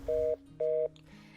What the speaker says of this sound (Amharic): የአድማጭ ስልክ ተቋርጧል።